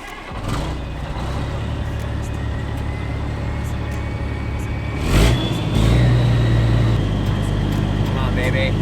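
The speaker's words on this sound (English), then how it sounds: "I'll move the truck and then I can pull ahead" Semi truck diesel engine idling steadily, then revving louder around the midpoint as the rig begins to move, with a low rumble throughout and brief voices nearby.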